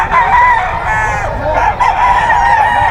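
Roosters crow loudly and repeatedly at the Bocaue pet market, their drawn-out calls overlapping close by against a busy market background with no clear talk.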